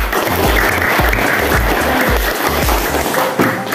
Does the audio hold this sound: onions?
no